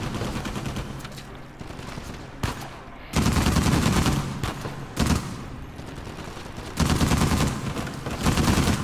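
Bursts of rapid gunfire from a rifle in the action video game Uncharted 4, loud and dense, swelling in heavier volleys with short lulls between them.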